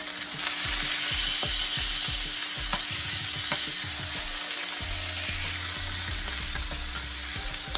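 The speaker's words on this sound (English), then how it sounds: "I'm gonna go ahead and flip my salmon." Salmon fillet flipped and frying in a pan, a steady close sizzle filling the whole stretch with light crackles and a few soft clicks and pan knocks mixed in.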